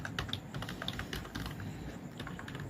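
Someone types on a Zebronics K24 computer keyboard, producing quick, soft, irregular key clicks that stay quiet and close throughout.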